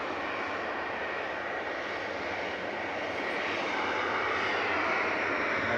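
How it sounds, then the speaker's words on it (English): An EasyJet Airbus A320 Classic jet departs, its engines giving a steady, broad roar that holds loud and close, swelling slightly toward the end with no talk over it. "Departing now is EasyJet to Venice with flight 2121. This is GEZUA and A320 Classic."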